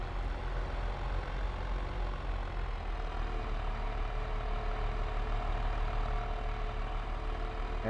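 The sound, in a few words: tractor engine idling in farming video game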